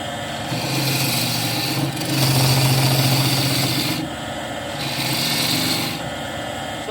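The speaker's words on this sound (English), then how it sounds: "So if I go with this gouge, I'm having trouble." Gouge cutting a dry ash wide-rim bowl on a lathe, a continuous rasping scrape that swells and eases in steady passes with a low hum beneath, no talking.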